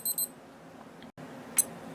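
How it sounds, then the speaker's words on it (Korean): Casio G-Shock GA-2000E wristwatch timer alert: a short burst of high electronic beeps at the start, then quiet background, with one more brief beep near the end. "타이머의 시간이 경과하면 10초간 알림음을 울려줍니다."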